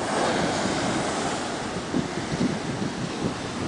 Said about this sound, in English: This is some wave action going on here.